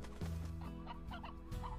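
Chickens cluck in a short, busy burst in the game Slime Rancher, several bird calls overlapping against a steady synthetic background tone.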